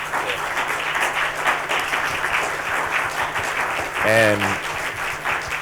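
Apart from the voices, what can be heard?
audience applause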